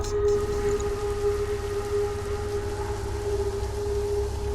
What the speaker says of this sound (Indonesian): Hujan turun deras malam itu.